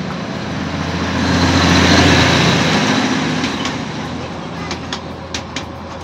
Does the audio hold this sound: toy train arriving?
yes